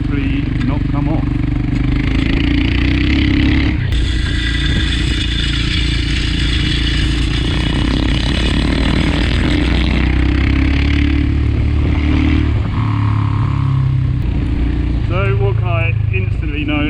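A Royal Enfield motorcycle ridden on a dirt flat track, its engine loud and close, rising and falling through revs with clattering and scraping, while a rider talks over it.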